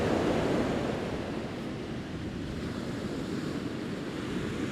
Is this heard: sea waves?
yes